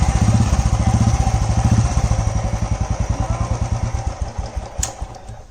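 A Royal Enfield motorcycle with a repaired self-start fault fires up and settles into its characteristic loud, rhythmic thumping idle, recorded up close with no talking.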